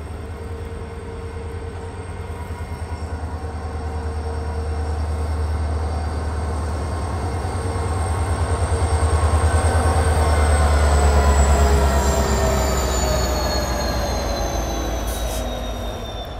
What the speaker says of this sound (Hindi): प्लेटफॉर्म नंबर 5 पर इंदौर जोधपुर एक्सप्रेस आ रही है और अपनी ट्रेन धीरे धीरे निकल रही है।